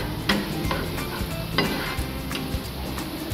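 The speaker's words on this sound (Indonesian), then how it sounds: "Setelah itu, kita akan menumis bawang bombay." Onions sautéing in a pan for sweet and sour dory fish, with a steady sizzle and several sharp scrapes and taps of a utensil stirring against the pan.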